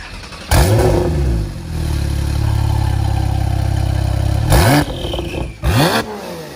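A decat Porsche Turbo S engine barks into a sharp rev, holds a loud, rumbling high idle for several seconds, then fires off two more quick, aggressive blips close by.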